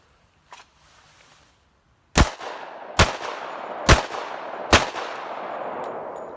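A Glock 29 Gen 4 pistol fires S&B ammunition four times at roughly one-second intervals, each shot loud and sharp with a trailing echo, after a near-silent start.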